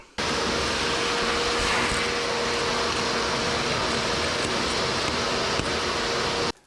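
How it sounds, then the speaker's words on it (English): A vacuum cleaner runs steadily, sucking debris out of a freshly cut pipe during flange removal, with a constant broadband whoosh that stays loud and even throughout and stops abruptly at the end. "Now let's vacuum this out"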